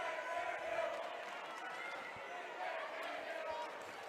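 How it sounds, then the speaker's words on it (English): Spectators at a 3A girls high school basketball semifinal, Emery vs. Grantsville, send up a broad, sustained crowd cheer filling a gym, steady and fairly distant, with a commentator talking over it. "Addie Hurst, the sophomore, gets a big cheer as she gets set to check in."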